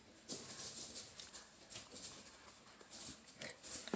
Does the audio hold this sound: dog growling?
yes